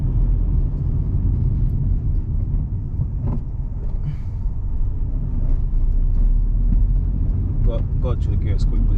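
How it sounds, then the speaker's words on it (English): Truck engine during CDL driving practice, a steady low rumble with rev swells as the driver double-clutches and downshifts through the gears, heard up close inside the cab. "I'm gonna downshift now. Rev, brake,"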